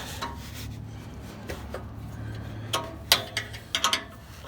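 A cap being undone on a Buick Grand National, with quiet ratcheting and mechanical clicks and scrapes that grow into a few sharper clacks near the end, close up and without talk.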